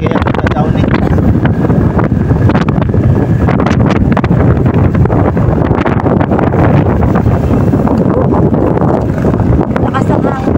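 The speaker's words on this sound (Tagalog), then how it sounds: "Lakas ang hangin." Strong wind buffets the microphone outdoors in a continuous, loud, rumbling roar with gusty surges, masking any other sound.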